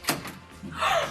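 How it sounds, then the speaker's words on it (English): A door is unlocked and opened in a quick sequence of clicks and knocks followed by a sliding rush, close by, with brief vocal sounds mixed in. "That's gonna unlock this door."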